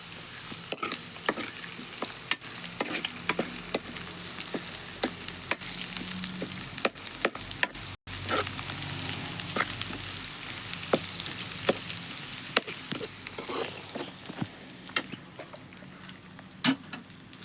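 Onion frying in oil in a pan for an egg curry, a continuous close sizzle and crackle with frequent sharp spatters and occasional stirring scrapes, steady and moderately loud throughout with no voices.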